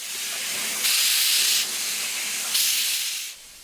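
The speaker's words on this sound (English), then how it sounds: "At the Keystone Depot, the steam engine always draws a big crowd." A steam locomotive at the Keystone Depot releases two loud bursts of hissing steam, each lasting under a second, over a constant softer hiss.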